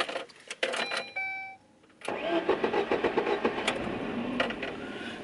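A car engine, started while left in gear and known for poor hot starts, cranks for about a second, then catches and settles into a close, steady idle with no talking.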